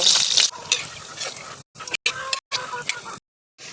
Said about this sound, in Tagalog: Unahin ko ang iprito yung fishball.